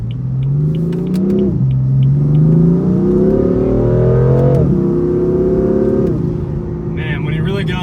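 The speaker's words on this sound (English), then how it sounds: "Man, when you really get on the throttle, this car, it is ready to go." A 2015 BMW M4 revving hard on a back road, its engine note climbing through rising pitch sweeps with quick drops between gears, loud and close from inside the car.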